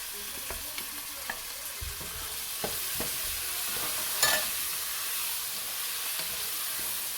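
Green chillies fry in a pan with a steady, close sizzle while a spoon stirs them in several scraping strokes, and a brief hissy burst rises near the end.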